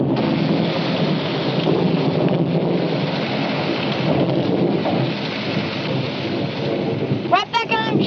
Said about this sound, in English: We're gonna beat the rain.